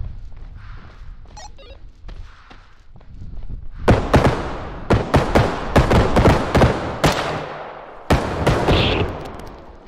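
Gunfire in the video game Bodycam on an abandoned hospital map. After a few quiet seconds, a loud run of close, sharp shots cracks out in quick irregular bursts, then a final shot echoes away.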